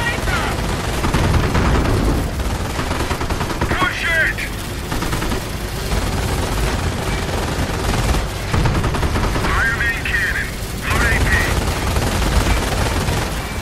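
Sustained battle noise from the Company of Heroes video game, with dense rolling gunfire and booming blasts running continuously at steady loudness, while voices speak over the din at times.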